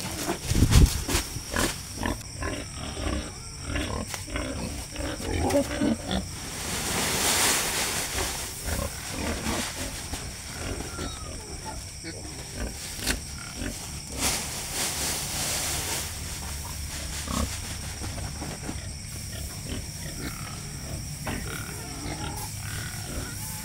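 Pigs on a farm, around a sow giving birth, squeal and grunt in a noisy, continuous chorus, with sharp louder bursts rising over a constant jumble of animal noise close by.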